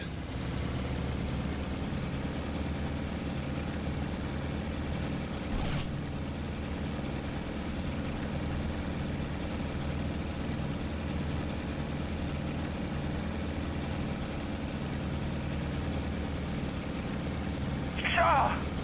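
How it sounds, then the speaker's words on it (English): Propeller aircraft engine in the IL-2 Sturmovik flight game, throttling up for takeoff from an aircraft carrier: a steady, loud, low drone runs throughout with little change in pitch, and a brief sharp click near the end. "let's get the engine all throttled up"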